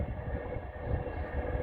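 A passing train sounds as a low, steady rumble with a faint tonal hum, distant and continuous outdoors beside an apiary.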